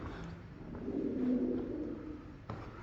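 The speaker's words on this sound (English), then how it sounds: "Look at the birds." Birds at an ancient ruined site give a soft, low cooing call, faint and somewhat distant against quiet ambient background, with a brief knock near the end and no speech.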